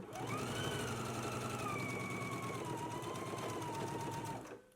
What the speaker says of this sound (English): we can go ahead and stitch using a 5/8 of an inch seam allowance